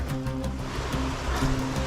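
Water rushes in a steady, dense roar like a fast-flowing stream, close by and continuous, with no voices.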